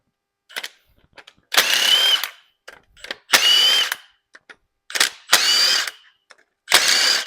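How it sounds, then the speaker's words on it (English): A power tool, likely an impact gun, spins out head bolts on a 6.0 Powerstroke diesel engine in loud bursts of a second or so, separated by short gaps with small metallic clicks and clanks. "So we're going to take the rest of the head bolts off"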